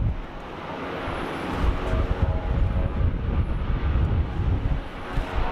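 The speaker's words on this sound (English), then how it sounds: "The engine on this Rex though sounds great." A Rex turboprop airliner engine at Sydney Airport gives a steady, droning roar with broad rumbling noise, loud and continuous without breaks.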